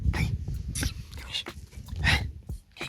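A pet dog near a backyard grill gives a few short, close whimpering yips in brief bursts, with a voice talking around them.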